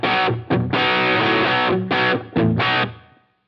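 Bright, jangly electric guitar chords with a Rickenbacker-style tone from a Line 6 Variax through a Helix ring out in short strummed bursts with brief gaps, then fade at the end.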